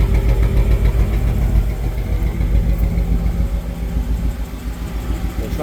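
A 1955 Chevrolet Bel Air two-door hardtop with dual exhaust runs steadily, its engine giving a loud, close, rumbling idle with an even pulsing throb throughout.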